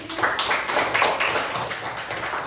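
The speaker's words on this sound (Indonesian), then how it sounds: "Tepuk tangan untuk kalian." A classroom group claps together in dense, continuous applause, steady and moderately loud, with many overlapping hand claps blending into a rustling wash for the whole stretch.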